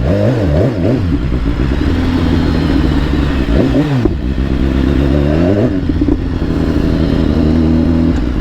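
A motorcycle engine is revved hard again and again with the throttle and no clutch, its pitch swooping up and down in loud, close bursts. A mechanical clatter runs under the revs, and no one talks.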